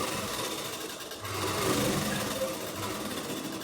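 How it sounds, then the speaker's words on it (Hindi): A sewing machine stitching a blouse runs steadily with a fast mechanical whir and rapid needle clatter, loud and close, picking up slightly in the middle. "तो देखो मैंने ऐसे लगाया सिलाई मशीन को, और देखो ऐसे मैं लगा रही हूँ।"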